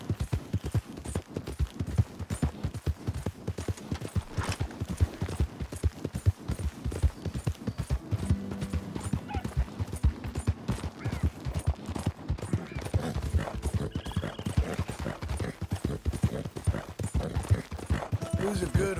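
Horse hooves clip-clopping in Red Dead Redemption 2, a steady, close, rhythmic pounding of hoofbeats running throughout, with occasional game sounds and a voice speaking over it.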